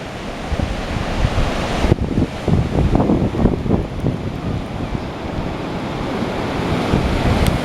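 Open Pacific Ocean surf breaking on the shore at Tofino, loud rolling waves with rushing wash and heavy wind buffeting the microphone, a sharp surge about two seconds in, no talk.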